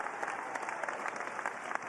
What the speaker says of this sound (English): even just a round of applause to encourage us